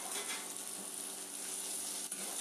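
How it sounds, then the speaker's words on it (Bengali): Nuts tipped into a pan of fried capsicum, carrot and potato bring up a soft, steady sizzle with faint clicks and scrapes, fairly quiet and close, with no voices. "ভাজার সাথে দিয়ে দিচ্ছি বাদামগুলি।"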